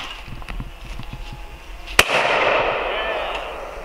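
A single loud shotgun blast cracks out at a clay pigeon shooting range, followed by a rushing echo, with people chatting nearby before it.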